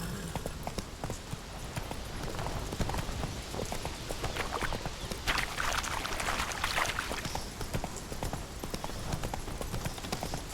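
Horse hooves clip-clop steadily as a mount is ridden in The Witcher 3: Wild Hunt, a continuous rhythmic trot with a busy background of ambient game sound.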